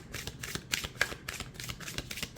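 Close, crisp riffling of an oracle card deck being shuffled, a rapid series of papery flutters and snaps with no talking.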